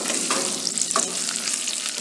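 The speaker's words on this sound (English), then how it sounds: "Now we'll add ginger julian. We'll saute it for a while" Ginger julienne sautéing with translucent onions in a kadhai, giving a steady, close, loud sizzle and crackle of frying throughout, with occasional stirring scrapes.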